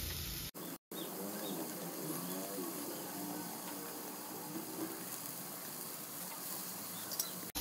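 Ridge gourd fries in oil in a pan with a loud, steady sizzle and crackle. The noise carries on without a break after a brief cut near the start, and nobody talks.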